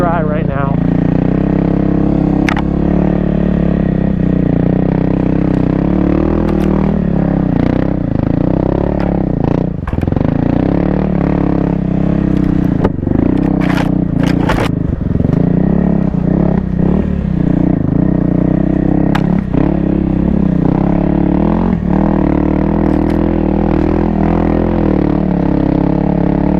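A 2024 Kawasaki KLX300R dirt bike rides in first gear over dry cross-country ground, its engine droning steadily up close with small rises and falls in revs. A rider talks over the engine, and scattered knocks and clatters come from the terrain.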